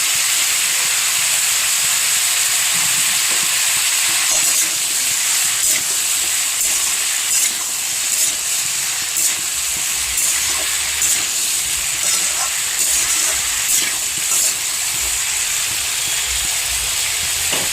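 Chopped tomatoes are stirred into potatoes frying in a pan, producing a loud, continuous hissing sizzle with faint stirring clicks scattered through it.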